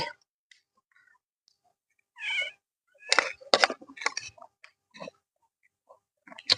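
A house cat meows several times in short, close bursts, with clicks and small handling noises between calls in an otherwise quiet outdoor setting.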